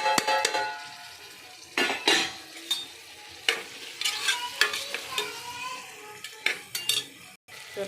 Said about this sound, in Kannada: ಟೊಮೆಟೊ ಹಾಕ್ತಾಯಿದ್ದೀನಿ.